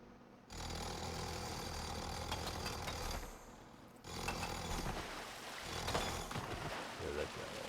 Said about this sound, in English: fuel up my jackhammer